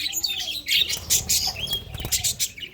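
Pet birds squawk and chirp close by after bathing in water, a busy overlapping run of short calls with some rustling.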